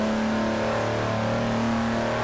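A KTM X-Bow GT4 racing car engine in Forza Horizon 4 drones and revs steadily at a constant pitch, loud and continuous, with a buzzing mechanical hum and no pauses.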